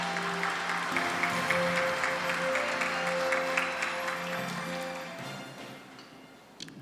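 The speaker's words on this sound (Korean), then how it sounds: "여러분 뜨거운 박수로 환영해 주시면 감사하겠습니다." At a ceremony marking World Peace Day, an audience claps steadily to welcome a university president to the podium, a dense, sustained wave of applause with background music that fades out over the last seconds.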